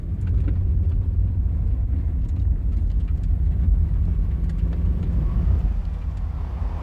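A 1993 Hyundai Scoupe Turbo accelerates hard, its engine and road noise forming a steady, loud rumble heard from inside the car with no voices.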